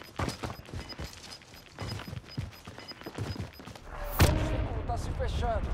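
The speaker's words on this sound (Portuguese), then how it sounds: "Cuidado, tá rolando os tiros por aqui" Call of Duty Warzone gameplay with bursts of gunfire and impact cracks, one loud close blast near the end, mixed under players talking over voice chat.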